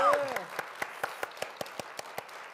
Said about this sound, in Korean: 이건 정말 격려와 감사의 박수를